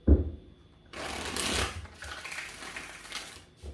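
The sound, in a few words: shuffling tarot cards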